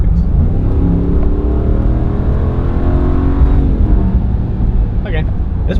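A 2019 Ram 1500 pickup accelerates hard, its engine note a loud, steady rising drone with harmonics climbing for several seconds before easing, heard from inside the cab with people talking over it.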